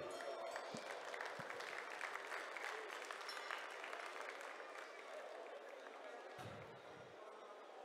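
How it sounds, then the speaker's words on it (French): Sustained applause from an audience at a live ring presentation of two mountain cattle, dense steady clapping that carries through the whole stretch and eases off slightly toward the end. "Je pense que vous pouvez les applaudir."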